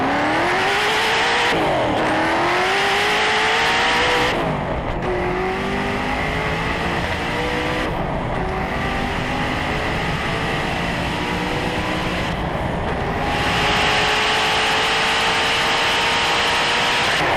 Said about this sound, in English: So this is the Venom GT down the Space Shuttle Landing Facility runway.